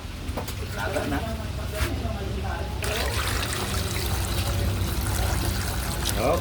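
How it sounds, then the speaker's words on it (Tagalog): Water pours and splashes into a pot for boiling duck eggs, a continuous rushing trickle with a voice talking over it. "Lagyan natin ng tubig."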